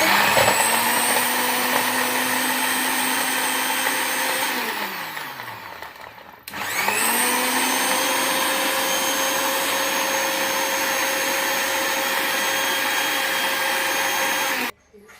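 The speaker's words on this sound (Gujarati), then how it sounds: "મિક્સરનો જાર બંધ કરી દીધો છે." A mixer grinder blends lassi ingredients such as rose petals, grapes and cardamom in a closed jar with a loud steady motor whine. The motor spins down to silence midway, then starts again at full speed and cuts off at the end.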